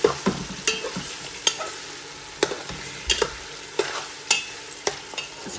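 Lamb pulao stirred and mixed in a pot, regular scraping strokes of the spoon against the base over a soft frying sizzle, close and steady, with no voices.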